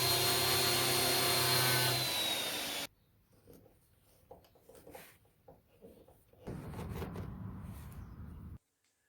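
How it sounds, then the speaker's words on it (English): Angle grinder cutting slots into rusty seized bolts on a car body: a loud steady whining grind for about three seconds, a quiet gap of faint clatter, then a second rougher grinding burst that cuts off abruptly. "what I was doing there was just grinding little slots into the bolts and then using a flathead screwdriver to turn them out"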